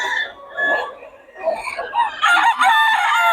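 Sweater gamefowl rooster crowing close by, a drawn-out cock-a-doodle-doo rising and falling, with softer clucks and calls from other birds around it.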